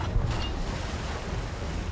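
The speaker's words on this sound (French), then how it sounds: "Je pense que c'est simplement les vagues." Ocean waves wash and surge around a ship in the pirate video game Sea of Thieves, a steady rushing swell with some wind noise and no talk.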